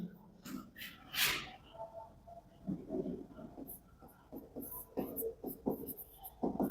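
Pen or marker scratching across a board or page during a Class 12 differentiation maths lesson, short uneven strokes in bursts with faint breathing and small movements, no talking.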